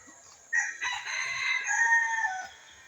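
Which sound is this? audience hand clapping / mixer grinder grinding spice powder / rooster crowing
rooster crowing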